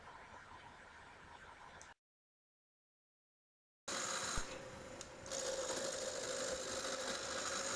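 A wood lathe spins a workpiece while a roughing gouge cuts it, making a whirring, scraping mechanical drone that breaks off into a silent gap and then comes back louder.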